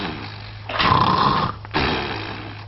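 A person imitates loud snoring with two rough, rasping snore bursts separated by a short pause, close and forceful.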